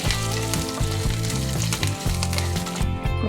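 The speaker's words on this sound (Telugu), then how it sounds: "పోపు వేగిపోయింది కదా" Loud, close sizzling and popping of spices tempering in hot oil for a brinjal chutney, continuous with bursts of crackle and a few stirring sounds.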